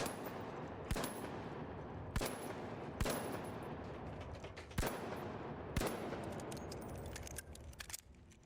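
Guns fire continuously in the first-person shooter game The Finals: a dense rattle of automatic fire, punctuated by several louder sharp cracks at irregular intervals. The shots come through clearly with no talking.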